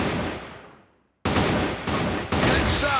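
Rifle gunfire during a Counter-Strike match, a loud shot decaying into silence, then three more sharp bursts in quick succession, close and forceful.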